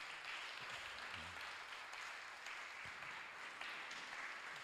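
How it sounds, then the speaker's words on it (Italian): Audience at an Italian national choir conference welcomes a speaker with applause, a faint, distant and steady patter of many hands lasting several seconds. "Prego, un applauso a Maurizio."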